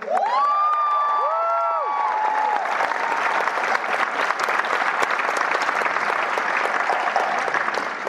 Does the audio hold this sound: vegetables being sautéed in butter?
no